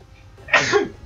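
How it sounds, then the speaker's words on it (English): A single loud, close sneeze with a short breathy intake, then a sharp explosive burst that trails off. "Oh, I'm sneezing like a madman."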